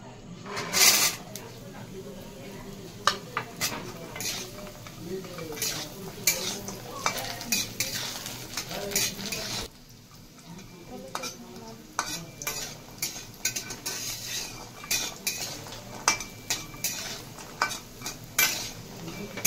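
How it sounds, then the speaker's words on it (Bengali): Lentil dumplings (bori) fry in oil in a pan and are stirred, with repeated scraping and clinking strokes over a soft sizzle. The sound is close, and a voice talks over parts of it. "বন্ধুরা, এবার আমি বড়িগুলো ভেজে নেব।"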